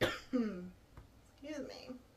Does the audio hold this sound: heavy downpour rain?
no